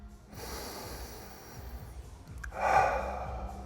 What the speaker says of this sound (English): 10 deep breaths, in